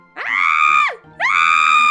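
A human voice imitates the scream of a Cactar creature from the Kingdom Hearts video game: two loud, shrill, wavering shrieks, each about three-quarters of a second long, separated by a short gap.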